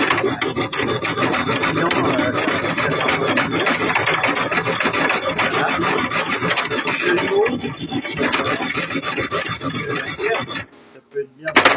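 A brush scrubs hard and continuously during maintenance on a Stahlwerk 200 ST TIG welder, a loud close rasping for about ten seconds before stopping abruptly, with a brief noise just after.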